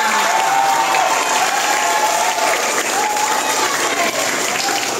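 Students on a high school study tour in North Sumatra applaud together, a loud, dense, sustained clapping from a room full of people lasting throughout.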